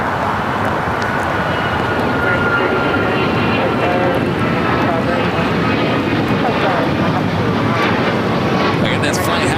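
An Alaska Airlines Boeing 737 MAX 9 in West Coast Wonders livery takes off at LAX, its engines a loud, sustained, broadband roar that holds steady, with a voice talking over it.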